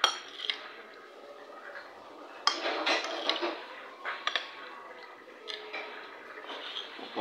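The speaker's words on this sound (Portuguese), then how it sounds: "Você rala no fundo da panela" Utensil scraping the bottom of a cooking pan during a family dinner, with scattered metallic clinks, scrapes and taps of dishes and cutlery, close and moderately loud.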